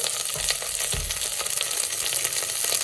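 Curry leaves, onion and garlic fry together in a pan of oil for lemon rasam, giving a steady close sizzle with a few soft knocks as the pieces shift.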